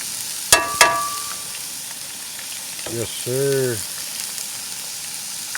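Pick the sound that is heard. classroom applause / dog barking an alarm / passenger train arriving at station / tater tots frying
tater tots frying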